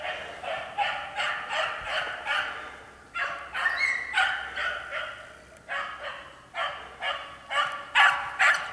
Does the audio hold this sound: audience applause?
no